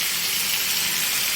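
Boiled, drained taro stolons (kochur loti) for a prawn curry hit a hot pan, giving a steady, loud, even sizzle that fills the whole moment without any voice.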